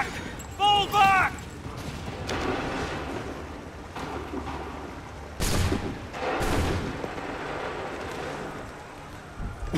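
Musket volleys ring out in Assassin's Creed 3, booming blasts with gritty rolling tails spread across the clip, one strong burst near the middle, mixed with shouted commands and a distant naval, seaside ambience.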